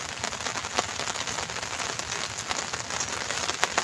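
Heavy rain pours down during a morning fishing trip, a dense, steady hiss of drops hitting surfaces close by, with scattered sharper splats standing out and no voices.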